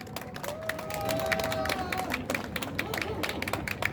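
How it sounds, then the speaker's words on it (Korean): An outdoor crowd at a Korean honorary marines patriotic unit launch ceremony claps and cheers loudly and continuously, with dense overlapping hand claps, a few whistles and background chatter. "여러분 큰 박수로 모시겠습니다"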